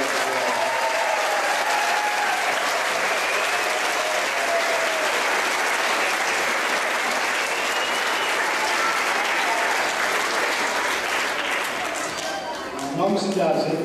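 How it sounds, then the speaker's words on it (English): Audience at a school grand finale concert applauding the teachers, a sustained, loud wash of clapping from a large crowd that fades slightly near the end. "How about giving the teachers a big round of applause?"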